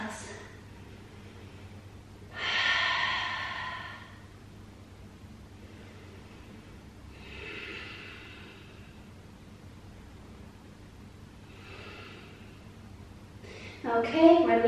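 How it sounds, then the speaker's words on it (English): Slow, deep breaths during a yoga stretch, heard as three soft, breathy swells a few seconds apart, close and gentle over a quiet background, with brief talk at the end. "Full deep inhales, full deep exhales."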